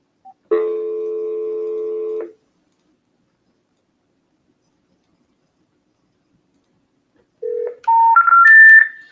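Telephone tones on a cold call: a sustained steady tone of about two seconds, then silence, then a quick rising series of short beeps like an automated intercept signal, close and clear with no talking.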